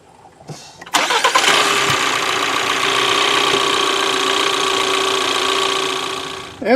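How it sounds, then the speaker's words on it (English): A Ford Edge 2.0 EcoBoost engine starts after an oil change: a brief starter crank, then the engine catches with a loud rev and settles into a steady, close idle that fades slightly before a final clunk. "let's go ahead and start her up"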